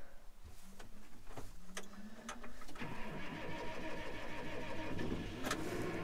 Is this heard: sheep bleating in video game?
no